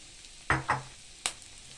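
Onion and garlic being stirred in a frying pan as crab is prepared, three short scraping bursts of the spoon over a soft background sizzle, close and fairly quiet, with no voices.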